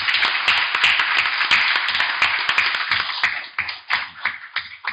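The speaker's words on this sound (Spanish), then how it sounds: "Claro que se merece un aplauso." A municipal council session breaks into applause for a qualified eleven-a-side football team, several seconds of brisk clapping that thins out toward the end.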